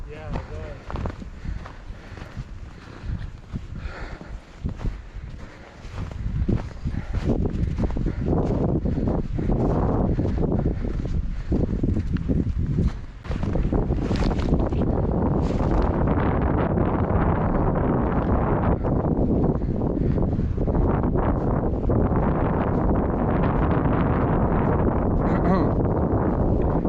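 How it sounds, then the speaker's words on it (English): Wind blowing hard along an outdoor birdsong trail, a loud continuous roar buffeting the microphone that builds and stays strong after the first few seconds, with people talking underneath. "Man, that wind just hits right here,"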